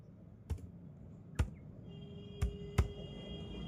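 Keyboard typing while entering text into a PowerPoint slide: four separate, distinct key clicks spaced irregularly, close but quiet, over a low steady room hum.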